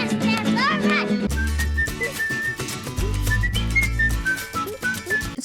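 A bright whistled melody plays over a pop backing track with deep bass and drums, the whistling carrying the tune near the front of the mix.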